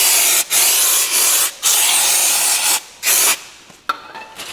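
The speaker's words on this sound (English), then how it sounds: "So always clean your rotors with some brake cleaner." Brake cleaner sprayed onto the front brake rotors of a Subaru Legacy, Liberty or Forester, in four loud, close hissing bursts of about a second each with brief gaps, ending in fainter sputtering.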